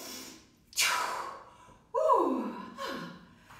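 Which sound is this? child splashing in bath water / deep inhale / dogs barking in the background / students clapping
deep inhale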